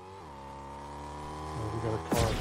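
Car engine in Fortnite, a steady droning hum that rises in pitch toward the end and is cut by a sharp burst, with voices talking over it.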